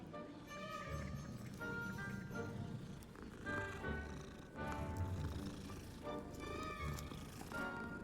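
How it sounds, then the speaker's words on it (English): Cat in the video game Hogwarts Legacy, meowing and purring in a string of soft, close sounds against a busy game background. "cat."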